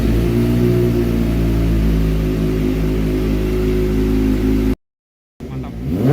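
A Kawasaki ZX-25R with an Akrapovic carbon exhaust revs loudly and close, a sustained high-pitched four-cylinder wail that cuts out abruptly and returns after a short gap.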